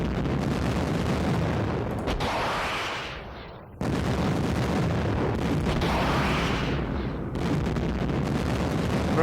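Sagger anti-tank missile fire in the Middle East 67 wargame, two long roaring launches with rushing blasts, each cutting off abruptly before the next heavy burst.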